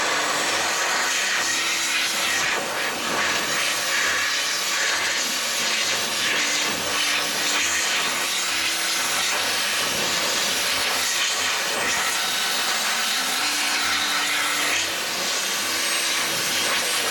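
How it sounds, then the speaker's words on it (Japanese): An electric air duster blows dust off a car navigation screen, a steady, loud, close hiss of forced air that runs unbroken throughout. "この機械を使うと超お手軽にね、ホコリを吹き飛ばして掃除をすることが可能となっております"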